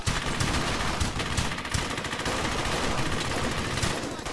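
Sustained automatic machine gun fire in the WWII shooter Brothers in Arms: Hell's Highway, loud and continuous with rapid overlapping bursts and shots throughout, a dense battlefield din with no pauses.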